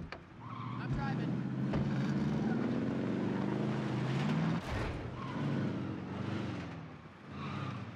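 Vehicle engine in Warzone 2 drones steadily through most of the stretch, a low droning hum under voices and game noise, briefly dipping near the middle before picking back up.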